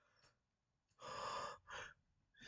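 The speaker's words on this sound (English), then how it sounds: "That yawn was not because I'm tired." A person yawning, a long breathy drawn-out exhale followed by a second shorter breath, fairly quiet and with no talking.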